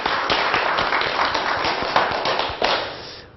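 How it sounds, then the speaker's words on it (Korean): Studio audience at a Korean TV laughter-therapy lecture clapping together, a dense, loud burst of many hands with a few sharper claps standing out, fading away at the end; no talk over it. "나에게 박수 한번 쳐주죠."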